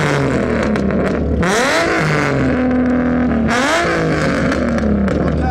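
A straight-piped Nissan 350Z engine revs hard in a rev battle, two loud, close rising-and-falling sweeps of raw exhaust snarl against a steady idle rumble.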